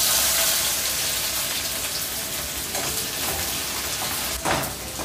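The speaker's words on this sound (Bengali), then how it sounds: "তেলটা বেশি গরম থাকলে যেটা হয়, অল্প সময়ের মধ্যে কিন্তু পেঁয়াজটা ভাজা ভাজা হয়ে যায়।" Two medium chopped onions are frying in very hot mustard oil, a continuous loud crackling sizzle that holds steady with a brief stir near the end.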